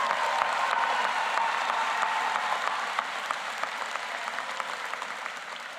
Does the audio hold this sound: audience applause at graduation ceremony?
yes